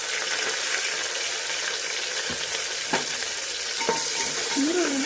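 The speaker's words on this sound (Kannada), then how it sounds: "ಈರುಳ್ಳಿನ ಒಂದು ಸ್ವಲ್ಪ ಬ್ರೌನ್ ಕಲರ್ ಬರೋವರೆಗೂ ಫ್ರೈ ಮಾಡ್ಕೊಳ್ತೀನಿ" Sliced onion with mustard seeds and cumin frying in hot oil in a pan, giving a continuous close sizzle with a few light scrapes and clinks of stirring, no voices.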